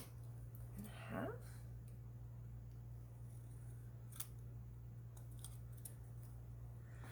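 Scissors snip a sheet of paper in half with one brief crisp cut near the start, followed by a few faint clicks against a steady low hum.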